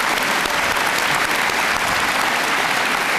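A large audience at a graduation ceremony gives a round of applause to the staff, loud, dense and continuous clapping that fills the whole stretch without a break.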